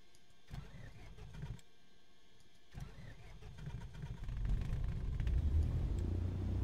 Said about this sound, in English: that's the engine started.